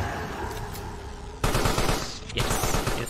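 Rapid automatic gunfire rings out in the video game Carrion, dense loud bursts with a short lull before the next volley.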